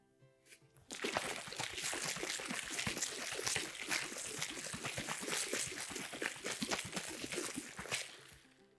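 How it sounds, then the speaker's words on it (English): A glass jar holding water, sand, gravel and soil is shaken hard, producing a loud, continuous sloshing and rattling that starts abruptly after a short quiet moment and runs to the end. "Now let's shake this jar up."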